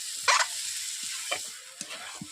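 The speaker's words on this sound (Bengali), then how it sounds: "আমি গুগলিটাকে ভালোভাবে কষিয়ে দিচ্ছি" Snail (googli) curry made with pond snails is stirred and fried in a pan: a few scraping stir strokes come in separate bursts over a soft, steady sizzle, close by and with no talk.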